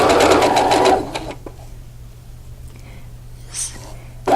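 A sewing machine stitches fabric in a fast, close rattling burst that stops after about a second, followed by quiet handling noises and a soft whisper-like voice.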